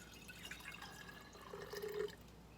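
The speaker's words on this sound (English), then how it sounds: "And then we're going to add 1 cup of water." Faint water trickles and splashes into a container of apple cider vinegar for a homemade cleaner, rising briefly in pitch as it fills, quiet and close.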